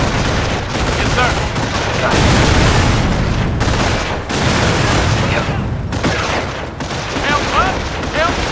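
Dense, loud gunfire and explosions from the World War II strategy game Company of Heroes, airborne infantry under attack at Vierville, with overlapping bursts and booms and shouted voices mixed in throughout.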